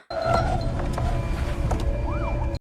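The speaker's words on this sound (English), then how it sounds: "you can hear the sirens, so they would stop him" A siren wails faintly in the distance over a steady background rumble, its tone rising and falling once.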